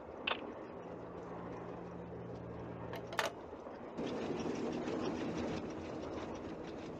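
A steady rumbling train in the video game Nancy Drew: Last Train to Blue Moon Canyon rolls along with a rhythmic clatter, a couple of sharp metallic clanks, and the noise swelling louder partway through.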